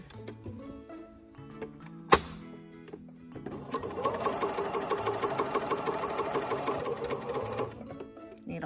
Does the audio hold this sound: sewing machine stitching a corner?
yes